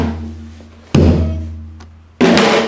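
Janggu, the Korean hourglass drum, struck in a hap-kung-ttak accompaniment pattern: two sharp, loud strokes about a second apart, each with a deep ringing body that slowly decays.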